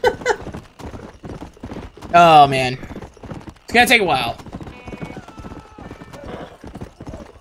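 A horse in Red Dead Redemption, with rhythmic clip-clop of galloping hooves and a couple of loud whinnies, heard under someone talking.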